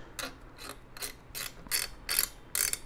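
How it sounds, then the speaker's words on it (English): Springs on a PC CPU cooler rub and creak against the thumb screws as they are tightened during a small form factor build, giving seven separate scraping ratchet-like bursts at an even pace, close and fairly quiet. "it's going to make horrifying noises as the springs rub against the thumb screws here"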